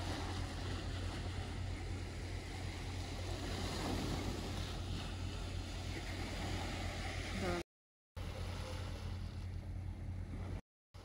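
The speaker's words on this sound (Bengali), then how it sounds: "কিন্তু ঢেউ আছে।" Ocean surf washing onto a cold, sunless North Sea car beach at Westkapelle in the Netherlands, a steady broadband roar with strong wind buffeting the microphone, continuous and loud, briefly cut out twice near the end.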